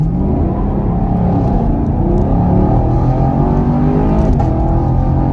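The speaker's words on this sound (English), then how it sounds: "All right, guys, one more try right here, a little bit of gas, and let's go." A 2021 Chevrolet Camaro LT1 on wider tires launches hard in competitive mode, its engine roaring loud and close in one continuous, dense pull with no talk over it.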